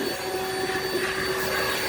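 A vacuum cleaner runs steadily and fairly loud, a continuous motor whine with a sharp tonal hum and airy rush that holds constant throughout, with no speech over it.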